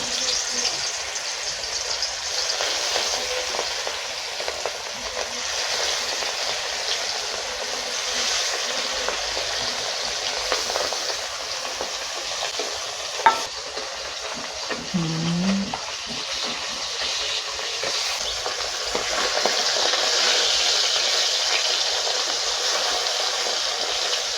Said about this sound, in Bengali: তেলটা গরম হয়ে গেছে, এখন মাছগুলো ছেড়ে দেব।